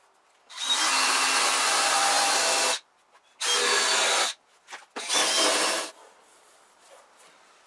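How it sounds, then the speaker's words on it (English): Wire brush scrubbing rust off metal, loud and close, in three bursts: a long continuous scratching run, then a shorter one, a couple of quick scrapes and a final stretch, with quiet gaps between. "So I use a wire brush."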